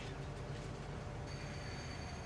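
A train in the farming video game Farming Simulator 25 rumbles along with a continuous low, dense rolling drone and faint high squeal tones, steady and fairly close, with no talking.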